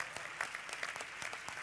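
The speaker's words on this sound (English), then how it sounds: "Let's give them a round of applause." Audience applause at the Doha GOALS 2014 youth event, a steady wash of many hands clapping throughout the short stretch, fairly even and unbroken with no voices over it.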